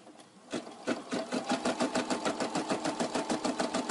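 A Brother SE400 embroidery machine stitching a design, starting up and then running a steady, rapid mechanical needle rhythm, close and loud with no talk.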